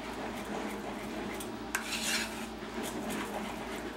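Brown butter caramel sauce stirred in a pan, a utensil scraping and clinking against the metal in steady close strokes, with a faint sizzle underneath and one sharper tap midway.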